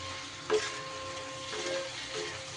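Taro curry with spices is stir-fried in a pan over raised heat, a steady close sizzle with a few scraping stirs cutting through at intervals.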